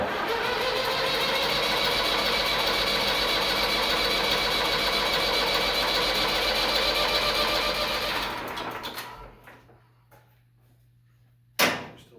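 A Case 1194 tractor engine drones loudly and steadily for about eight seconds, then cuts out, leaving quiet clicks and a short sharp knock near the end.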